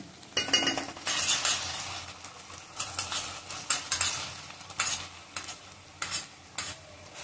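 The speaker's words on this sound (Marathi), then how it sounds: "थोडंसं तूप पण टाकते, साजूक तूप टाकलं." Pure ghee sizzles in a pan for sarson ka saag while a utensil stirs and scrapes against the metal in irregular bursts, close and fairly loud, with no voices.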